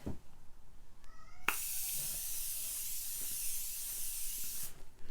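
Morphe Continuous Setting Mist sprays onto a face in one long, steady, close hiss lasting about three seconds, preceded by a faint click of the pump.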